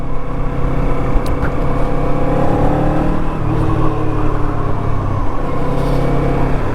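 Kawasaki Eliminator motorcycle riding through a housing tract, its engine droning steadily with shifting pitch as it accelerates, mixed with loud wind rush, no voices.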